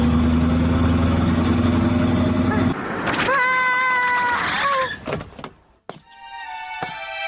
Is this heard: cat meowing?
yes